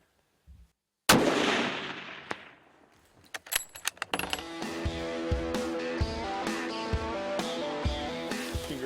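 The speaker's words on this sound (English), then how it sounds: "Shoot him again." Rifle shot fired at a moose on a Yukon hunt, one loud sharp report followed by a long rolling echo, then scattered clicks and metallic handling noises before a steady musical bed comes in.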